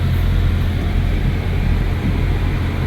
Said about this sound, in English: So it's on drive right now, and let's see how it's gonna move.